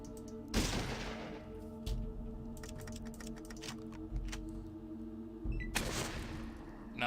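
Bursts of rapid gunfire from a teammate in Fallout 1, clattering in quick strings of sharp cracks with two louder blasts near the start and end, no voices over it.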